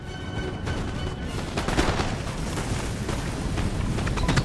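Grenades thrown and exploding on a Napoleon: Total War battlefield, a dense rumble of blasts and crackling gunfire in a continuous roar with sharp bursts rising above it, no voices.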